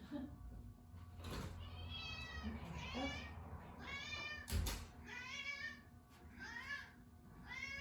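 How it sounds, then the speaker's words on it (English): A cat meows repeatedly indoors while being let in, a run of fairly faint, rising cries spaced about a second apart over a steady background hum, with a door-like knock partway through. "One second, I'm gonna let the cat in."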